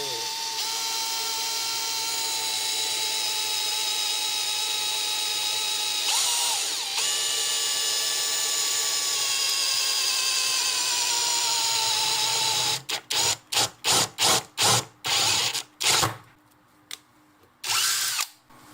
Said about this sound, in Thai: เดี๋ยวลองเจาะเหล็กดูนะครับ